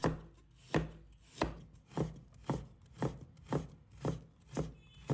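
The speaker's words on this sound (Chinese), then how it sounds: "准备1块生姜，把它切成姜丝" A knife chops fresh ginger into thin shreds on a cutting board, about nine evenly spaced crisp thuds at a steady rhythm, close and moderately quiet with no voices.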